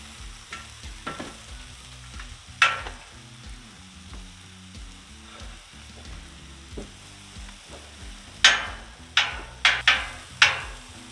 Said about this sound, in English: 2 eggs, scramble them up. And we'll get them on the griddle.